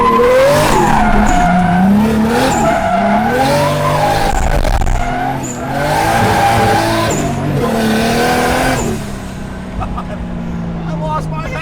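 A drift car skids with loud, repeated tire squeal in long bursts over a roaring engine, the squeals rising and falling across several slides while people talk inside the car.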